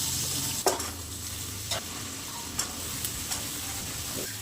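Peas and potatoes stir-fry in a pan with ginger-garlic paste, a soft steady sizzle broken by several sharp scraping strokes of a spoon against the pan, close and fairly quiet, with no talking.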